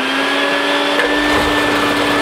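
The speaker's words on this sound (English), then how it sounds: "Vacuum." A shop vacuum runs steadily beside a home-made ore crushing mill, a loud, constant motor whine with a steady pitch and a rushing airflow hiss, close by and continuous with no talk.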